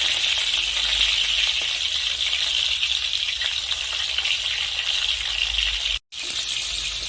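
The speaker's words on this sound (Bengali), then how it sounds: "তো চিকেনটা আমি আরেকটুক্ষণ ভেজে নেব।" Chicken pieces fry in hot oil in a pan for a Bengali chicken curry made with roasted spices, a dense steady sizzle that cuts out briefly near the end before resuming.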